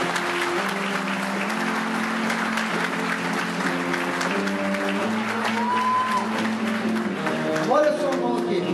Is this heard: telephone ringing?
no